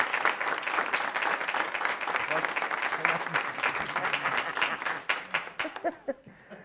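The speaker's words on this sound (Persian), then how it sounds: "آره این خاطره رو تشویق کنیم." A studio audience at a Persian TV comedy talk show applauds in a dense, sustained burst of clapping that thins into a few scattered claps before stopping.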